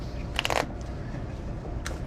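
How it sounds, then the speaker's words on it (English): Playing cards shuffled by hand, a couple of quick riffling bursts, close and crisp over quiet room tone. "You could shuffle them face up so everybody could see them."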